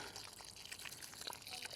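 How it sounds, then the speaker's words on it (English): Water is poured from above onto a newly planted perennial in a flower garden, making a soft, steady trickle and splash that runs for a couple of seconds at low volume. "I'll add some water"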